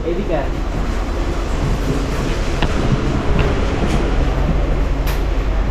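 Steady rumble and rattle inside a local passenger train bound for Digha, with continuous low track noise and occasional faint clicks throughout, no voices heard.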